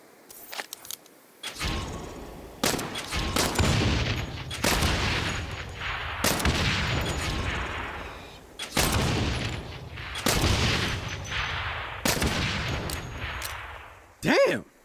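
Gunfire in the video game Saints Row comes as a series of loud, sharp bursts of shots separated by short gaps. Each burst trails off into a ringing decay, with a few faint clicks in between.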